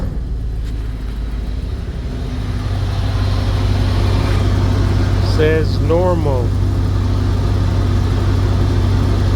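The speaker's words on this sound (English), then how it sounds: "Engine is started." A 2001 GMC Yukon engine idles just after starting, a steady low hum that settles in under a man's speech, with a few electronic beeps partway through.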